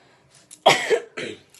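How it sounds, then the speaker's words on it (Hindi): A single sharp cough followed by a second shorter one, close and loud against near silence. "सॉरी, अभी मतलब खांसी हो जाती है एकदम से।"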